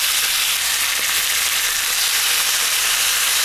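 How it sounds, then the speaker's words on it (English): Steak searing in oil heated over medium-high heat in a pan, giving a steady, loud, broadband sizzle that holds without a break for the whole stretch, with no talking over it. "let's go ahead and sear the steak."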